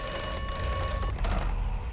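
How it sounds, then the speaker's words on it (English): A telephone rings in the video game Atomfall, a loud close metallic bell trill that cuts off partway through, leaving a dull rumbling game ambience. "You answer a phone and hear an ominous voice saying some cryptic information."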